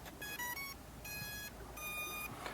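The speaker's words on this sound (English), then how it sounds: "We'll hear a series of beeps." A budget underwater ROV beeps when plugged in, three short clusters of high electronic tones spaced evenly, quiet over a steady background hiss.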